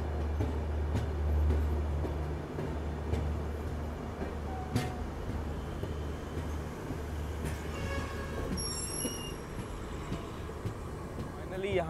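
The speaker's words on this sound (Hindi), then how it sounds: "अब जाकर के train Bangalore city railway station पहुंच रही है" A diesel train pulls into Bangalore City railway station with a steady, heavy low rumble throughout and a brief high squeal near the end, while voices murmur in the background.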